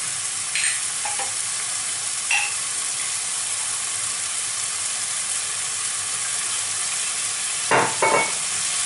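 Seafood rice sizzles in a pan with white wine just added, a steady loud frying hiss throughout, with a few soft scrapes of stirring that stand out briefly, close up and without voices.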